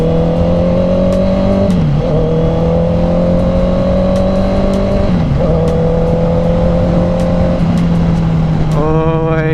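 A Honda CB650R motorcycle with its old stock exhaust revs loudly and steadily, engine note rising and dipping in several throttle blips, close up and alone, ending in a sharp climbing rev.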